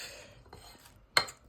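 A spoon works through ripe banana fritter batter in a bowl, giving faint soft scraping and stirring, then one sharp, bright clink against the bowl near the end.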